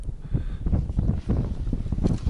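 Wind gusting across open winter lake ice during snowmobile ice fishing for zander, a steady broadband rush with uneven surges throughout, close and moderately loud with no voices.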